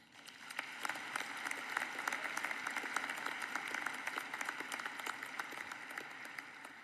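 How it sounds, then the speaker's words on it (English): Applause from a Colorado School of Mines undergraduate commencement audience honoring the families, a steady wash of many hands clapping, distant and fairly faint, continuing throughout without talk. "So for the families, please, a round of applause"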